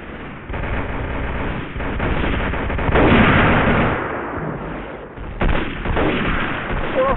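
Gunfire in the Day of Defeat: Source World War II shooter game, rapid bursts of rifle and machine-gun shots with booming blasts, loud and dense with rises and dips.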